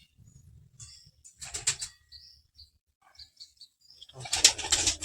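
Pigeons at a loft of kalshira and wash-marked birds, with soft wing flaps, brief coos and a burst of fluttering near the end, close by and fairly quiet.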